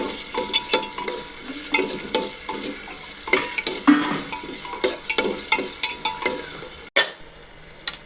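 Onion, curry leaves and tomato frying for chicken biryani, with a spoon stirring and scraping the pan over a steady sizzle, close and busy with uneven clatters.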